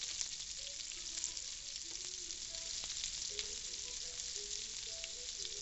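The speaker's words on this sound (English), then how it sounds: "what we're going to do with these is pretty much saute them" Onion rings left whole in circles sauté in a hot pan, giving a steady, even sizzle with faint stirring clicks, close and continuous with no talking.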